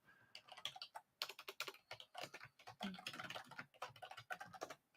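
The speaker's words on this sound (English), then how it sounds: "Sorry if you can hear me typing." Rapid bursts of typing on a computer keyboard, close and fairly quiet, with irregular clusters of key clicks separated by brief pauses and no voices.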